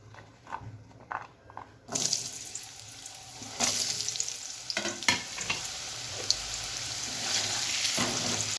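Potato pieces fry in hot oil, starting with a quiet crackle and then swelling into a steady, close sizzle after about two seconds. Scattered clinks and stirring noises sound over it, and no one speaks.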